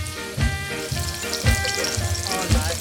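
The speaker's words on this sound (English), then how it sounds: "we're gonna just brown the chicken" Chicken sizzles steadily in a hot pan, a continuous crackling fry with occasional louder spits and stirring, close up and without talk.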